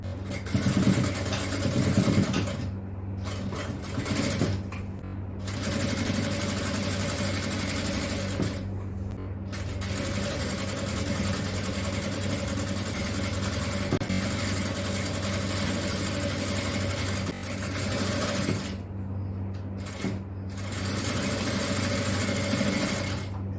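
A sewing machine stitches the waistband of an inskirt, running in long steady stretches with a few brief pauses, close and continuous over a low hum.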